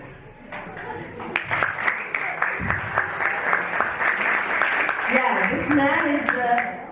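An audience at a school public speaking contest claps for a contestant receiving his certificate; distinct hand claps build into a steady round of applause, with murmured voices beneath.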